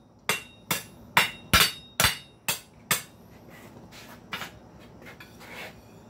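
A hammer strikes hot steel on an anvil during a hook-making forging session. Seven sharp, ringing blows land at a steady rhythm, then several quieter, duller taps follow, close and clear with no talking.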